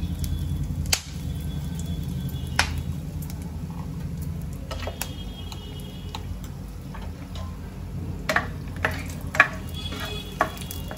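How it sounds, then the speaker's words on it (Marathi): Whole spices and asafoetida crackling in hot oil in a pan over a gas flame, with a steady low sizzle and a few sharp pops and ticks scattered through, close and moderately loud with no talking. "आता ह्याच्यामध्ये मी खडे मसाले टाकून घेते। यात आता मी हिंग घालून घेते।"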